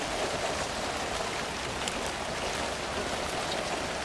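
Steady rain falling in the horror video game Alan Wake 2, a dense, even hiss of drops that stays quiet and constant throughout, with no voices over it.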